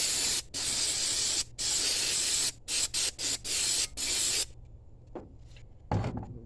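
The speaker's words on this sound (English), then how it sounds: "Spray the front off." Cleaner sprayed onto the carburetor of a 1988 GMC 350 5.7 V8 in repeated loud hissing bursts of about a second each, separated by brief gaps, then a few fainter short squirts near the end.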